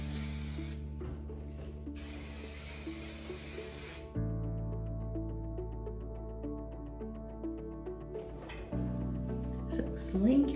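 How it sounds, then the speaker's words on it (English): Hair styling spray hisses in two strong bursts onto curly hair, followed by quieter handling sounds and faint tonal background. "So we're gonna spray this on"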